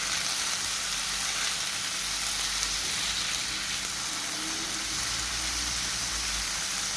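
Cuttlefish pieces frying in ghee give off a steady, close, dense sizzle that holds evenly throughout, with a low rumble beneath and no voices.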